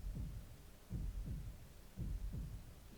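Steady heartbeat effect from the video game Arknights, deep paired thumps repeating about once a second, loud and close with no speech over it.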